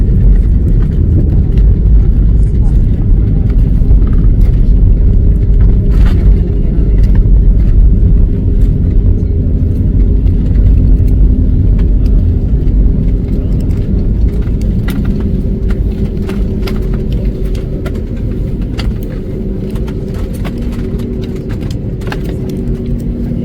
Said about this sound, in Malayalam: ഈ സമയം ബാംഗ്ലൂരിൽ നിന്ന് ഫ്ലൈറ്റ് ഉയർന്നുകൊണ്ടേയിരിക്കുന്നു